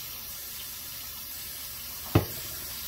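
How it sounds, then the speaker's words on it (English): Warm water runs steadily from a tap to wet a polyester tie, a constant close rush with one brief splash or knock near the end and no talking. "start off with a little bit of warm water. Get it wet."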